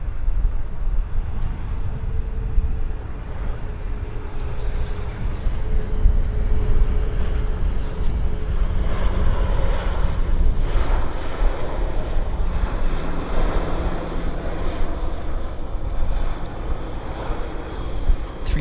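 A Delta Air Lines airliner at Vancouver airport gives a steady, loud, broad engine roar that holds for the whole stretch, with no voices.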